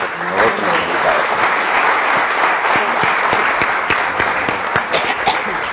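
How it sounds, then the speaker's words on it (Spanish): Loud, continuous applause from the audience at a public talk on the future of democracy, greeting the invited guests; many hands clap in a thick, steady wash that stays strong from start to finish. "Y un aplauso nuevamente para nuestros otros invitados."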